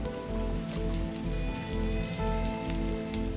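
Rain falling in the Sonoran desert at the start of the summer monsoon, a steady close patter of drops on surfaces with a faint underlying drone.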